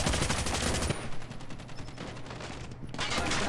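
A Chopper LMG fires in Call of Duty Mobile, a loud, dense, rapid stream of shots that briefly thins mid-burst before surging again at full volume.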